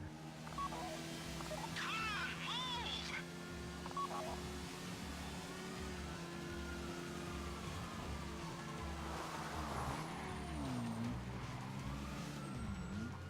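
Car engine in Grand Theft Auto V, driven away out of a garage during a Pacific Standard getaway, a steady loud drone with shifting tones and faint siren-like wails underneath throughout.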